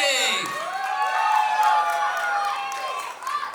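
Wedding guests cheer and applaud for the bride before her dance performance dedicated to her family: a lively crowd roar with whoops and shouts, clapping underneath, and music ringing through it, fairly loud throughout.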